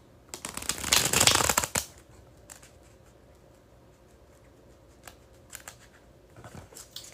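Playing cards riffled together in a bridge shuffle, a dense close flutter of cards lasting about a second and a half, followed by scattered soft taps and card handling sounds in a quiet room.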